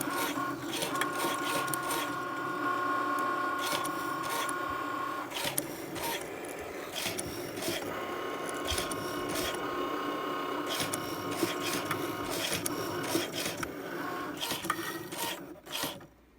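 Cricut Maker cutting flannel fabric pieces for a skillet handle hot pad; mechanical whirring and rasping in repeated bursts with brief pauses, moderately loud and close, with no talking.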